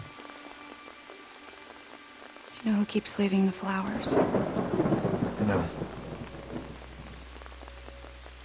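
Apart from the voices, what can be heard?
rain in the video game Watch Dogs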